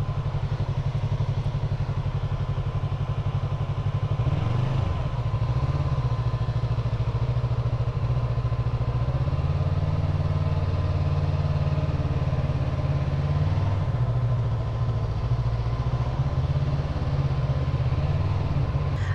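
Yamaha MT-03 motorcycle engine idling steadily up close, a continuous low mechanical rumble with light clatter that holds even for the whole stretch, with no talk over it.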